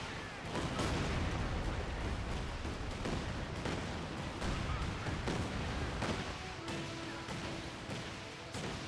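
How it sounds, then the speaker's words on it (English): A Land Mattress rocket artillery barrage in Company of Heroes 2 sends a loud, continuous string of whooshing launches and booming impacts rolling through the whole stretch, with battlefield noise beneath. "Here comes a land mattress."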